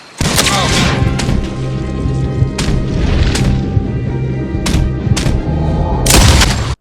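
Gunfire in the Western video game Red Dead Redemption during a ranch showdown: several sharp, loud shots ring out over a dense, booming game soundtrack.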